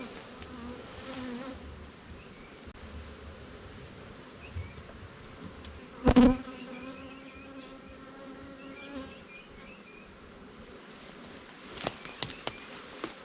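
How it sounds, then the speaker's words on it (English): Honey bees buzz steadily around hive frames, a close, continuous drone with one bee passing loudly near the ear partway through. "So again, a lot of bees on here."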